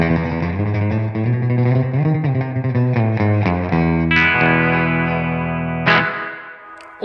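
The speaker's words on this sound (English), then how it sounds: "no Fender amp is complete without a dense spring reverb" Electric guitar through a Fender-style amp's dense spring reverb, notes ringing out with a washy, drippy reverb tail, sustained chords decaying into a lingering echoing shimmer.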